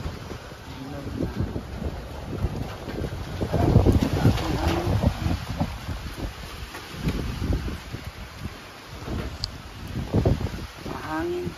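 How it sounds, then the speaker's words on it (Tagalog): Strong wind during rain buffets the microphone at a small roadside shop in irregular gusts that swell and fade over a continuous rushing hiss, with people talking intermittently in between. "Mahangin talaga."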